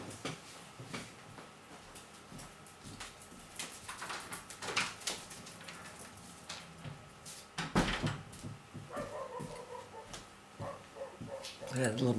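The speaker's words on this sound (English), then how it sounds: "I had to let my dog outside. You can hear him barking." A pet dog named Sandy barks outside a house, muffled and somewhat distant, with intermittent yips and thumps under ongoing indoor talk.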